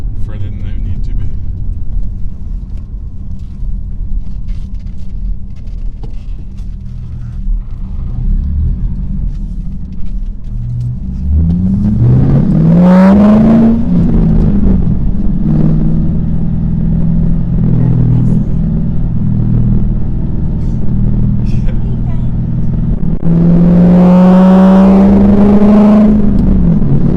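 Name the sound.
2007 Mustang GT engine rumbling and revving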